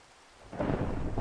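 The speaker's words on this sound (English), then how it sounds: "Why is it raining?" In Minecraft, quiet at first, then a loud rumble of thunder rolls in with steady rain hissing underneath, close and continuous.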